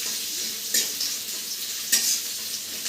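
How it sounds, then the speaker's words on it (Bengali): Onion, bori, dried chili and chopped garlic fry in a pan, giving a quiet, continuous sizzle broken by two sharper scrapes of stirring. "ততক্ষণ আমি এটা ভাজতে থাকবো"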